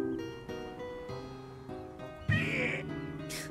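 A cat in the video game Lost and Found Co. lets out a strained, wavering cry over steady game music, with a second brief high squeal near the end.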